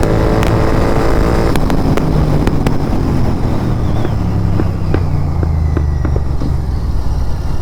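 A Royal Enfield Continental GT 650 motorcycle pulling away in first gear, engine rising steadily in pitch under heavy wind rush on the microphone, then easing off, with no talk.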